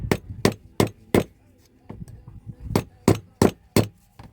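Sharp metallic taps, about a dozen evenly spaced close strikes with short pauses, from a hammer tapping a metal fork piece while it is spun to shape a fork necklace.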